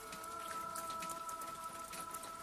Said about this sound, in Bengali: টিনের চালে বৃষ্টির শব্দ যেন এক অবিরাম বাদ্যযন্ত্রের মতোই পাচ্ছে